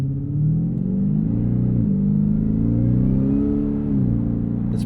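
Ford F-150 Raptor R supercharged V8 truck, exhaust set to Baja mode, idling and blipping with a deep steady rumble, two brief revs rising and falling, close and loud with no talk.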